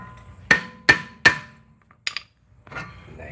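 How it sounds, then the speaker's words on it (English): Three sharp hammer blows ring out on a brake part in a shop, evenly spaced, followed by lighter metallic clinks and handling noises. "Hit it with the hammer now."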